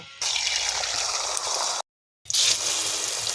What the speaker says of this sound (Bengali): আবার একটু তেল দেবো এরকমভাবে সব কটা ভেজে নেব